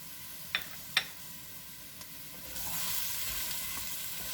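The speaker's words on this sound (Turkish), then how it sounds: "Ve soğanlarla beraber 1-2 dakika kadar da sucuğu kavuruyorum." Sliced sucuk sausage sizzles with sautéed onions in a pan, a faint, even frying hiss that grows slightly louder partway through, with a couple of sharp utensil clicks near the start.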